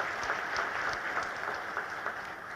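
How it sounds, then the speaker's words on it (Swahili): An audience at a hotel opening ceremony attended by Tanzania's president breaks into steady applause, a fairly even patter of many hands clapping at moderate loudness with no speech over it. "Jamani, naomba tupige makofi jamani."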